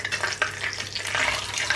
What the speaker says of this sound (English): So now the oil is nice and hot, I'm going to go in with my cumin seeds.